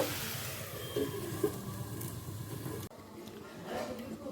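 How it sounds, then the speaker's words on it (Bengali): Potatoes with kalo jeera (nigella seeds) frying in a covered pan on a low flame give a steady soft sizzle, briefly cut off and then resuming quieter. "এবার ঢাকা দিয়ে লো ফ্লেমে ভাজতে ভাজতে সেদ্ধটা করে নেব"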